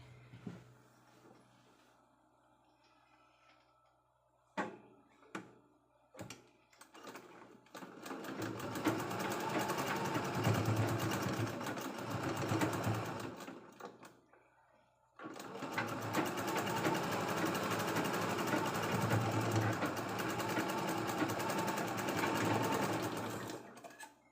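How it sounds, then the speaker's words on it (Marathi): Sewing machine stitching leftover blouse fabric into a bag, running in two long steady buzzing bursts after a few short taps, close and even with a brief pause between runs. "आपल्याला ह्याच्यावरून इथं एक टिप मारून घ्यायची आहे अशी इथं एकच टिप मारायची आहे"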